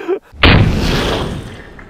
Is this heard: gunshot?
yes